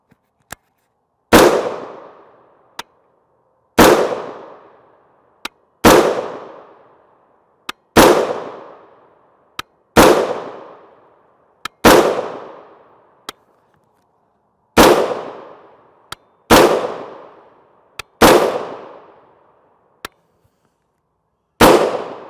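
An AR pistol fires 5.56 mm Black Hills MK262 77-grain OTM rounds: about ten sharp, loud reports spaced a couple of seconds apart, each with a quick decaying echo, and no talking.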